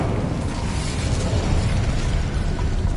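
The Incendio fire spell is cast in Hogwarts Legacy on PS5, a loud, sustained roaring burst of flame with crackling, rumbling texture that fills the whole moment without speech.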